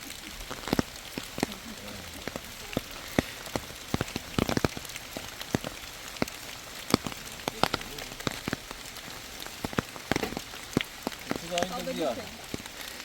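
Steady rain falls in a northern Iranian forest, a dense hiss with scattered sharp drip clicks throughout, and faint voices briefly rising near the end.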